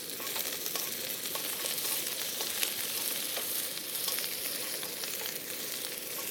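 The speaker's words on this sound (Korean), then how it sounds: "바로 들기름이에요. 이렇게 해서 같이 볶아주세요." Vegetables stir-fry in perilla oil, giving a steady, fairly quiet crackling sizzle with faint stirring movements throughout and no voices.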